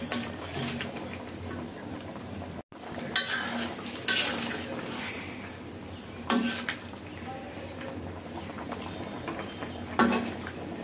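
Fish frying in a pan on a home stove, a steady loud sizzle throughout with occasional scraping and stirring clatter from a utensil against the pan.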